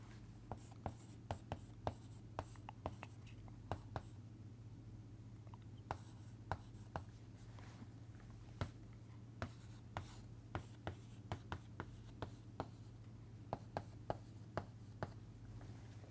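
Pen scratching and tapping on paper while working through a Laplace transform problem, a steady series of short strokes close by over a low constant hum, with no voice present.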